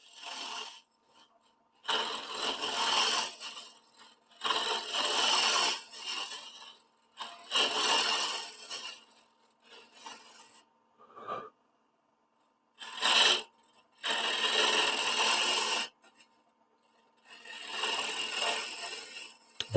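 A woodturning gouge shears across face grain on a lathe spinning at about 1200 RPM, giving repeated broadband scraping passes of a couple of seconds each with short pauses between, close and fairly loud with no talk.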